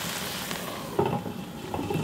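Aged kimchi simmers in a covered pot, giving a soft, steady bubbling hiss with a few louder bursts of sizzle near the end.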